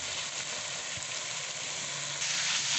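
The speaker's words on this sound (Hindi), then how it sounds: "अब गाजर डाल दें। गाजर थोड़ी सी ज़्यादा डलती है क्योंकि इससे टेस्ट जो है बहुत अच्छा आता है" Carrots and cabbage fry in a pan for a home-style mixed vegetable sabzi, giving a steady, close, even sizzle with no talk, slightly louder near the end.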